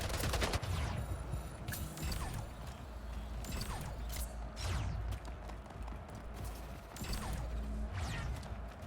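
Shotgun fire in the video game Splitgate: several sharp blasts at uneven intervals, mixed with mechanical clatter and busy game sounds.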